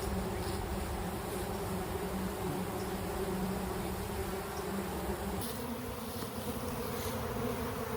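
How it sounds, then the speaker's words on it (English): A dense, steady buzzing of many agitated honeybees close by during a colony cutout, continuous, with no voices. "We've got a lot of ticked off bees."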